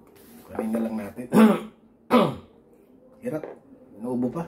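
Throat clearing and a couple of short coughs from a person indoors while unboxing a package, the bursts alternating with quiet murmured voice sounds.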